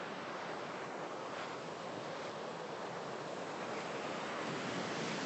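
Ocean surf rolls continuously onto the beach at Pacifica, a steady broadband roar of breaking waves with wind buffeting the microphone, loud and unbroken throughout, no voices.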